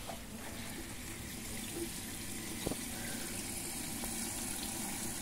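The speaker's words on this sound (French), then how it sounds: "J'ai mis un robinet en cuivre tout simple pour vidanger un peu l'irrigation" Steady running water pours from a simple copper drain tap on an urban hydroponic irrigation setup, a continuous wash of flow with a brief clunk midway.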